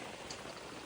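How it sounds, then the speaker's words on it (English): Rain falls around a camping cabin in Forillon National Park on Quebec's east coast, a steady, soft hiss of drops with no pauses and no talking. "it is raining right now"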